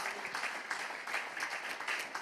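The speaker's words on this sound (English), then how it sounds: "clap your hand and give God a praise" A church congregation claps in praise during a sermon, a continuous, fairly faint wash of many hands clapping at a steady, even density throughout.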